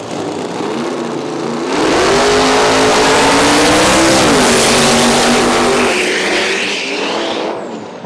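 A loud, heavy Cummins diesel truck engine roars at full throttle at a drag race, rising and holding steady before easing off toward the end.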